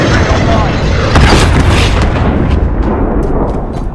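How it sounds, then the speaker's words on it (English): Heavy booming blast from a cruise missile strike in Call of Duty Modern Warfare, a loud, dense rumbling explosion that swells and then decays over a few seconds, with sharp crackling bursts trailing near the end. "Cruise missile away."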